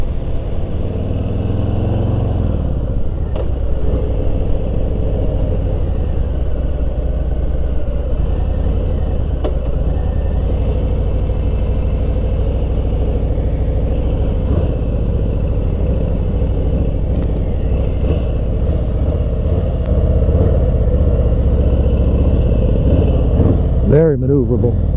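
A 2020 Harley-Davidson Softail Slim with cable clutch rumbles steadily at road speed, a deep, loud, continuous engine drone with brief shifts in pitch, running under someone talking throughout.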